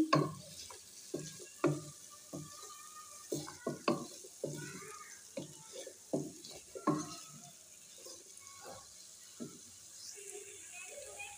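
Small carrots stirred in a frying pan for chicken macaroni, a run of close, rhythmic scraping and clacking strokes over a soft sizzle that thins out toward the end.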